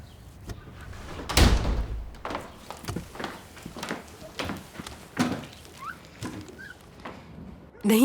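A door is opened in an indoor domestic scene, with a sharp knock-like impact near the start followed by lighter clatter and background movement; voices are present faintly.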